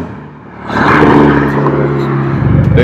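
A Hyundai Genesis Coupe fitted with an ISR near-straight-pipe race exhaust drives close by, a quiet start giving way after a second to a loud, steady, droning engine tone that holds to the end.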